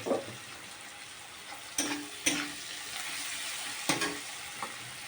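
Onions and fish sautéing in a pan, a continuous sizzle with a few sharper stirring scrapes of the spatula, close and without speech.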